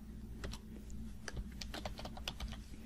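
Fingers typing on a computer keyboard, then hitting the enter key: a quick run of light clicky keystrokes over a low background hum, close and fairly quiet, with no talking.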